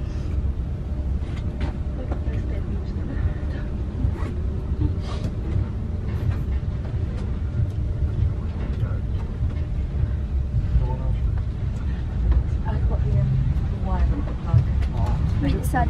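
Steady low rumble of a moving train heard from inside a carriage in the UK, with faint clicks and rattles throughout.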